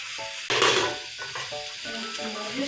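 Tomato chutney cooks on a stove, a continuous close sizzle with stirring scrapes and a louder burst of frying partway through.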